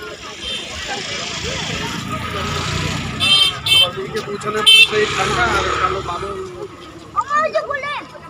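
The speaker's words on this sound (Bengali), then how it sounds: "সাইডে এত বেশি গাড়ির আওয়াজ আর কথার আওয়াজ হচ্ছিল" Traffic rumbles steadily beside Mirik lake, with a few short car horn toots and honks cutting through, while people chat close by.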